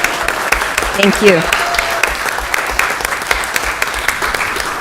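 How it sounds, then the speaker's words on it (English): An audience at a city council meeting breaks into steady applause that carries on throughout. A voice speaks briefly over the clapping near the start. "Let's give them a round of applause."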